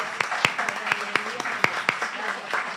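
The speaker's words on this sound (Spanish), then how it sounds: "pido un fuerte aplauso porque hoy es su cumpleaños" Applause at a forum on digital violence against women and girls, given for a colleague's birthday: fairly quiet, loosely spaced claps from a seated audience continue steadily while someone talks over them.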